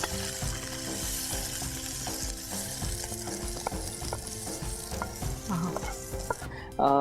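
Kabuli chaat mixture being tossed and stirred in a pan, with a steady fry and sizzle under repeated scraping and clattering utensil strokes, close and moderately loud throughout.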